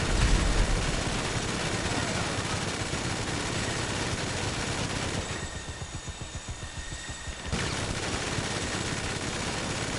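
A helicopter gunner fires in GTA Online: dense, loud, continuous machine-gun fire, thinning for a couple of seconds into separate rapid shots before the full barrage resumes.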